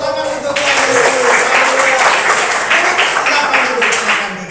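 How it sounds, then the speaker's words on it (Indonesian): Loud applause from a congregation at a church holiday Bible camp worship service, dense clapping with some rhythmic pulses and faint voices or cheering mixed in. "Tepuk tangan untuk Tuhan Yesus"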